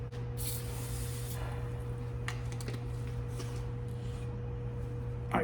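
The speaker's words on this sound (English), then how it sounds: "just gonna spray a little canola oil on there to make this easier" Short bursts of canola oil spray hiss from a can onto a bearing puller in a workshop, several quick spritzes over a constant low electrical hum, with a final brief clunk.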